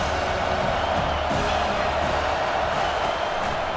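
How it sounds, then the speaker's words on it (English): A stadium crowd in EA Sports College Football 25 roars with a constant, dense wash of cheering and whooping, loud and unbroken throughout. "This crowd knows when to bring it."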